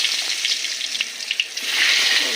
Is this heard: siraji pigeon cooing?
no